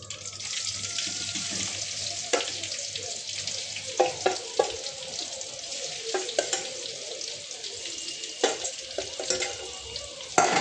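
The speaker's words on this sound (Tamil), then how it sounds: "நல்லா மொறுன்னு வறுத்து வச்சுக்கணும். அடுத்த ரவுண்டு போட்டுருவோம்." Fish fries in a hot pan, giving a continuous close sizzle and hiss. Scattered clinks and scrapes of a utensil turn the pieces, with no talk over it.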